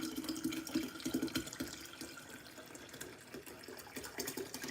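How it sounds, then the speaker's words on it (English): Sweet tea pours into a kombucha brew, a soft liquid trickle and splash that runs in bursts, quiet and close, with no talking. "Pour the rest of the sweet tea in here."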